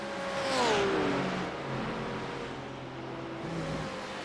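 GT3 race cars circuit Spa in the iRacing sim, one engine passing close with a rising whine that drops in pitch, then fainter engine drone continuing, with no talk.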